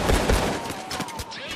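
Steakout 12g shotgun in Payday 2 firing a quick volley of blasts, two heavy booms close together followed by lighter cracks, loud and near with a voice briefly mixed in.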